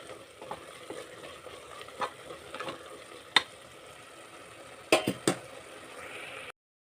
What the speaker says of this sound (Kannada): ಈಗ ಏಲಕ್ಕಿ ಪೌಡರ್ನ ಹಾಕ್ಕೊತಾ ಇದ್ದೀನಿ. ಸರಿಯಾಗಿ ಮಿಕ್ಸ್ ಮಾಡ್ಕೊಳ್ಳೋಣ.